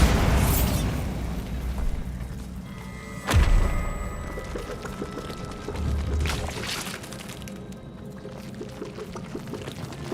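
A Bombarda blasting spell explodes in Hogwarts Legacy with a sharp, loud crack and thump, followed by rumbling debris and a softer second surge, over a low background din.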